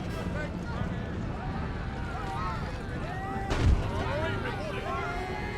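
Troops fire their muskets in Empire: Total War, the Great Britain campaign. A single heavy volley booms about halfway through over a steady battle rumble, while someone talks throughout.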